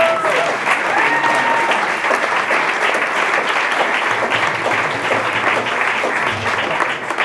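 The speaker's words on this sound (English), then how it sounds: "let's give them a round of applause" Audience applause fills a jazz concert at a firehouse venue, dense and sustained clapping from a sizeable crowd at steady loudness for several seconds.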